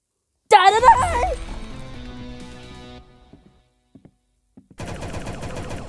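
Rapid automatic gunfire bursts from the video game Arsenal, loud at the start, then a quieter stretch with sparse single pops, and another dense burst near the end, with synthetic tonal game effects.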